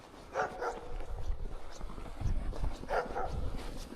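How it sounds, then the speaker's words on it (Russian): A guard dog barks in short bursts, somewhat distant, outdoors in a winter forest, with faint background noise between the barks. "Сторожевой пес выполняет с честью свой долг."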